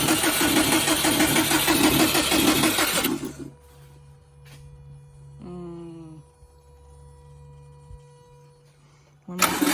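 A Subaru engine with timing belt trouble turns over on the starter, a loud rough churning crank that cuts off abruptly, followed by quiet with a brief voice and a short burst of cranking again at the end.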